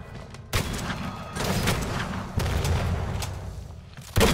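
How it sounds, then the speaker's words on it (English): A double-barrel shotgun fires in the Weird West western video game. Three heavy, booming blasts land about two seconds apart, each trailing off into a noisy rumble. "how about we sign off with a good old double barrel shotgun approach"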